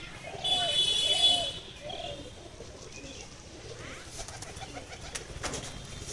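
Madras pigeons at a loft give soft, low cooing calls, loudest in the first couple of seconds and then fading to quieter coos over steady outdoor background noise.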